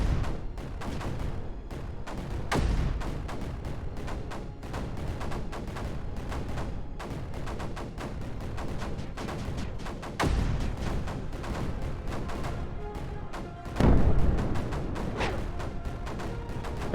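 Mortars firing in Creeper World 4 keep up a steady crackling barrage, with several heavier booms standing out at intervals over the dense, continuous din.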